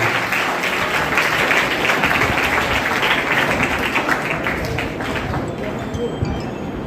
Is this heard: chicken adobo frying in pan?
no